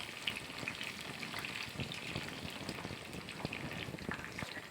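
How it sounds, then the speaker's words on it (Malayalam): Thin banana slices frying in hot oil for banana chips, a dense, steady sizzling crackle that fills the whole stretch with no voices over it. "എണ്ണയ്ക്ക് ചൂടായി വന്നിട്ടുണ്ട്. ഇനി നമുക്ക് കുറേശ്ശെ ഇതിലേക്ക് ഇട്ട് കൊടുക്കാം."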